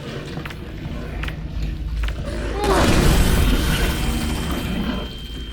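A grenade blast in the VR game Half-Life: Alyx gives one loud, booming burst with a rumbling tail, set among game noise with voices talking.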